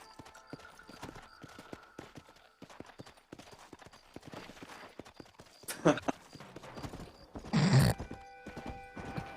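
Horse hooves clip-clop in an uneven rhythm in the video game Red Dead Redemption, with occasional louder bursts including a horse's snort or whinny, quiet between steps.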